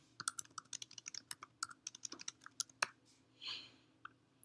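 Typing on a computer keyboard: a quick irregular run of crisp key clicks close by, pausing briefly, then a soft rustle toward the end.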